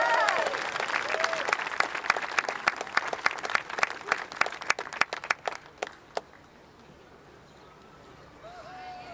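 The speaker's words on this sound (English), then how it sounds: "Let's give a round of applause for Ryan." A crowd at a 2018 March for Our Lives rally in Washington, DC claps and applauds, dense at first and then thinning into scattered claps before fading out, with a few whoops.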